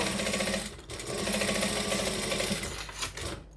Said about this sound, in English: Now I'm going to start by stitching here.